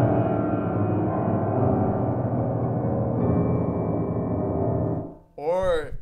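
Dense, rumbling low piano notes rolled together in a sustained murky wash, loud and close, cut off by a brief burst of voice-like sound.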